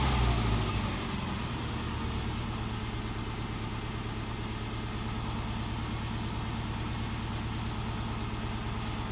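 A Subaru engine with a high-idle fault runs steadily at around 1,000 RPM, a constant close mechanical drone with no talking, after a brief louder start.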